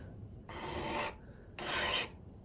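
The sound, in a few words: sharpening a knife, burr being shaved off the blade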